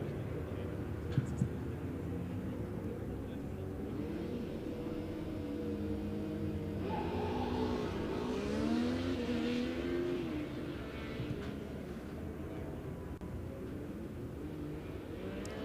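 Formula Student race car on an autocross run at FSCZ 2025, its engine note rising and falling through the course as it approaches, peaks in a loud revving pass midway, then recedes.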